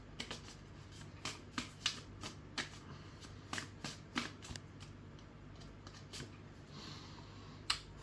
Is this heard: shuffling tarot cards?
yes